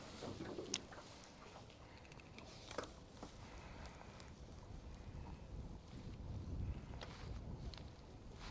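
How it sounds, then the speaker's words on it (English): Upstream wind gusts across a river during fly fishing, a steady low rush of air buffeting the microphone with faint scattered knocks and splashes, swelling slightly toward the end. "There's that nice upstream wind you were talking about."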